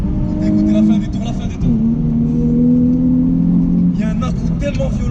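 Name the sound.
Nissan 350Z engine revving at high rpm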